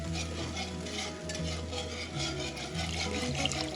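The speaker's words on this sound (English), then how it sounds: "is something that you have to continue to do with gravy. Just keep stirring." Gravy stirred steadily in a pan over medium-high heat for smothered pork chops, a continuous close wet scraping and bubbling sizzle with no talk.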